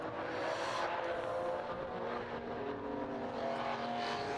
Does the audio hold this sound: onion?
no